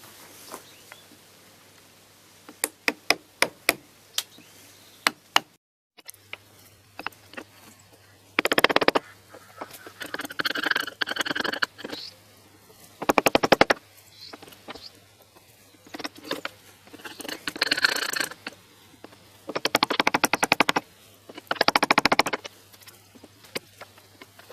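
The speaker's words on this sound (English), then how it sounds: "So I'm going to get my screwdriver and my little hammer, and we're going to knock out these plugs." A screwdriver struck with a small hammer knocks out plugs on the lifeboat RNLB Joseph Hiram Chadwick. Close, sharp single taps come first, then bursts of rapid knocking separated by quiet pauses.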